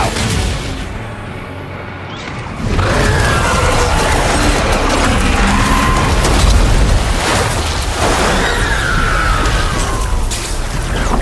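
Heavy gunfire and explosions from the video game Death Stranding 2 roar in a dense, continuous barrage, with booming blasts and crackling bursts layered over a rumbling low end, loud and close throughout.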